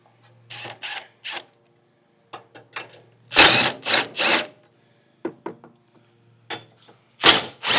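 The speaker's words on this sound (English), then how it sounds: "So we're gonna go ahead and use our 13mm socket." A 13mm socket on a ratchet works the exhaust mount bolts of a Segway Villain, giving short bursts of clicking and scraping separated by quiet pauses, close and fairly crisp.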